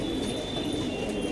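Loose pigeons give a steady, continuous low cooing, close and fairly loud, with a thin tonal hum running throughout.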